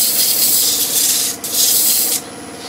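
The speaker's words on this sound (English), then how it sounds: "now you've got a nice little drum sander that you can get into all those little holes, all those little concave curves" A small drum sander grinds against wood while parts for a turned Christmas pyramid are shaped. It makes a loud, steady, close hiss and whir that dips briefly twice before cutting off.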